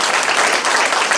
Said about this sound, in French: J'aimerais bien qu'on les applaudisse,